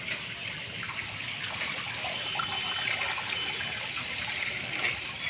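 Floodwater from monsoon rain pools and runs along the street in front of a house, making a steady, moderately quiet wash of flowing, trickling water throughout, with no voices.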